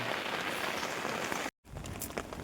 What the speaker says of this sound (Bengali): ভারী বৃষ্টি হচ্ছে ভারী হ্যাঁ, বৃষ্টি প্রচুর পরিমাণে বৃষ্টি হচ্ছে